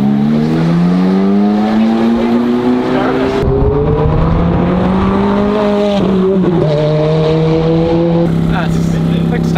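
A race car is driven hard around the Mondello Park circuit, its engine loud and close with a strong tone that rises and drops through gear changes, and voices talk faintly beneath.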